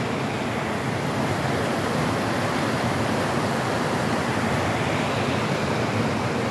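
Oak Creek flows steadily nearby, a dense, even rush of water that fills the scene without pause or change.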